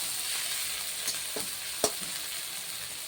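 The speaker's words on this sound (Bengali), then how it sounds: "আদা কুচিগুলো কিছু ভাজা ভাজা করে কাঁচা লঙ্কা দিয়ে দিলাম" Chopped ginger and green chilies fry in a pan for egg paratha, giving a steady close sizzle marked by a couple of sharp stirring clicks against the metal.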